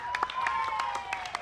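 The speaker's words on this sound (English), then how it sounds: "Round of applause for our panel." Audience applause for a festival culture panel: a steady patter of many hands clapping close by, filling the whole short burst without a break.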